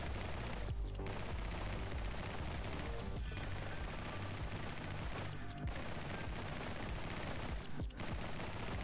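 Rapid gunfire from the NIMRODS horde survival game rattles on steadily as a magazine is emptied, a dense continuous stream of shots broken by a few sharper bursts, under a constant backdrop with no speech.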